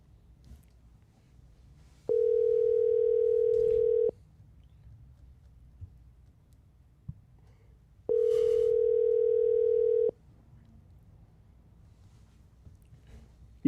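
A telephone ringback tone on an outgoing call to someone with patchy service: two steady, buzzing tones of about two seconds each, separated by a long silent gap, fairly loud against a quiet background.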